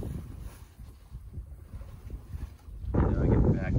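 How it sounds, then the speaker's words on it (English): A sailboat on a solo voyage from Florida toward Maine moves under wind, with gusty microphone buffeting and rushing water that swell louder near the end. "So here's a bit of sailing action,"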